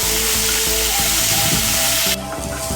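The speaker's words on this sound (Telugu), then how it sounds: "కాస్తని పచ్చిమిరపకాయలు, వెల్లుల్లిపాయలు, ధనియాలు, జీరా, చింతపండు వేసి బాగా వేయించుకోవాలి." Green chilies, garlic, coriander seeds, cumin, tamarind and mint frying in a pan give a steady, close sizzle with faint stirring scrapes, running alone without talk.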